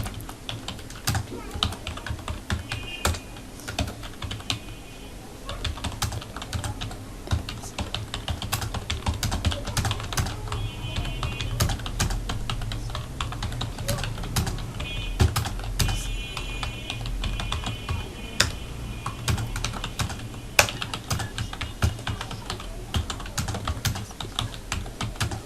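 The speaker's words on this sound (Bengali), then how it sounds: "এখন আমরা টাইপটা করব।" Fingers tap a computer keyboard while a letter is typed in MS Word, with quick irregular key clicks and occasional heavier strokes in an ongoing run, close and fairly quiet.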